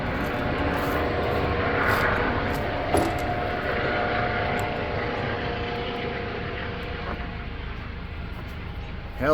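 A steady engine drone from a helicopter flying overhead fills the air continuously with broadband noise, fairly loud and sustained throughout.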